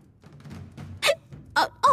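A character in the video game Tales of Xillia hiccups three times in quick succession, each a sharp, loud vocal burst standing out over quiet, murmuring game audio.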